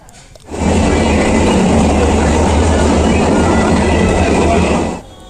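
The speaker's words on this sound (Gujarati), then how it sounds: "હાલો જૂનાગઢની ટ્રેન આવી ગઈ છે" A train arriving at a station in Junagadh rumbles loudly and steadily nearby for several seconds, a dense roar that fades in and then cuts off.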